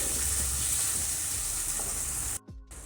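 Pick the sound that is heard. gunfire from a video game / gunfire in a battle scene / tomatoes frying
tomatoes frying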